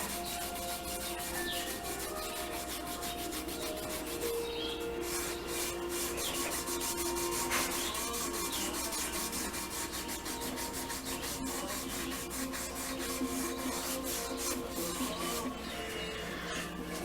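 Brass being sanded by hand with sandpaper, a steady, faint scratchy rubbing in quick repeated strokes, continuous and close with no voices.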